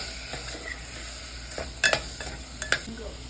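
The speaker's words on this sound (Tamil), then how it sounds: "நல்லா திருப்பி விடுங்க." A spoon scrapes and stirs ground cinnamon, clove and cardamom powder frying in a pan for a vegetable kurma. Soft sizzling runs under a few sharper metallic scrapes, close but fairly quiet.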